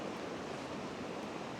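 A creek beside a Colorado campsite rushes in a steady, even wash of broadband water noise, close and constant with no voices.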